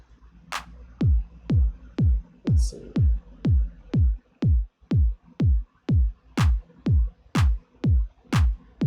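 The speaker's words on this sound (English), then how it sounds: "Then fairly standard 707 clap every second beat." A steady, punchy drum machine kick lands on every beat, with a crisp 707 electronic clap snapping on alternate beats in a tight loop, in a minimal house style.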